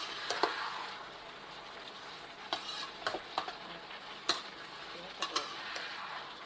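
Asparagus and pork stir-frying in a pan, a soft low sizzle broken by sharp spatula clinks and scrapes against the pan, fairly close with no talk.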